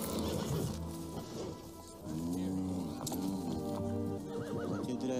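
A horse whinnies and neighs repeatedly in a film battle scene, the calls loud and close over clattering hooves and dense background noise.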